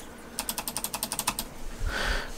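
A fast run of about a dozen crisp mechanical keyboard clicks, close and evenly spaced, followed by a brief soft rustle.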